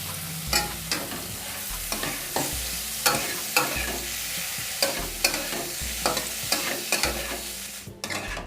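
Tomato, boiled potato, turmeric, chili powder and salt get stirred in a frying pan, with a spatula scraping and knocking in a regular rhythm over a soft sizzle, close and loud, with no talking.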